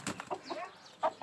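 An Aseel rooster gives a few short, close clucks and throaty calls in a quick irregular sequence, fairly quiet with no talking over it.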